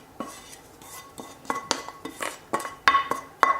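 A wooden utensil scrapes and knocks in a pan while bean burger ingredients are mixed, giving close, irregular scuffs and light clinks that grow busier toward the end, with no talking.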